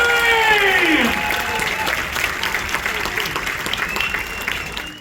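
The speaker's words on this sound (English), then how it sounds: "Start the clap and start the cheer and build the energy in the room for Rodney!" Audience applause and cheering fill a room aboard the cruise ship Celebrity Eclipse at a Neil Diamond tribute show, a dense, steady wash of clapping with whoops over it, holding loud throughout, with a bright rising whistle-like tone early on.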